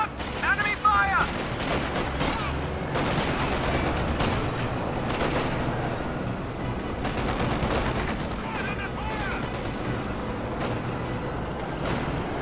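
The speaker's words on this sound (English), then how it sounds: "Enemy fire!" Rapid bursts of gunfire and automatic fusillades crackle continuously throughout a competitive video game match, dense and fairly loud, with a commentator's voice talking over the shooting.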